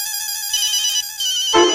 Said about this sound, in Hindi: बॉस का फोन आ गया।